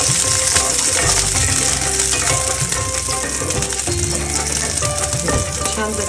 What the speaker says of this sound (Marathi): पहिल्यांदा घालूया लसूण थोडासा अरोमा सुटेपर्यंतच परतायचं आपल्याला ते